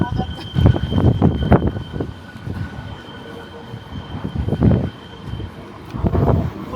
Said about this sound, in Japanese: 列車が。